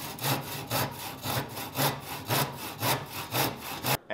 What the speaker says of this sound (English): cutting these legs with a handsaw is probably the most difficult part